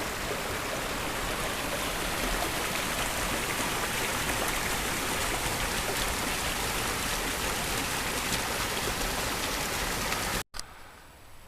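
Sherman Creek flows steadily in a continuous, close rushing wash of water, loud and unbroken for about ten seconds before a brief cut and a quieter continuation of the same stream.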